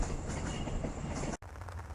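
Train wheels rumbling and rattling along rails, close and continuous, with a brief dropout before the clatter resumes.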